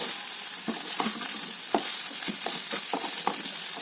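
Rice is tipped into a hot frying pan with chilies and stirred for dry fruits rice. Steady oil sizzle runs throughout, broken by repeated scraping clicks of the spoon against the pan.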